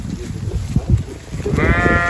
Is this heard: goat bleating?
yes